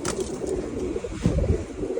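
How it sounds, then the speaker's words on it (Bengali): Low, throaty pigeon cooing repeats steadily close by, a soft rolling murmur with no talking. "এই যে আরেকটা গোলা কবুতর"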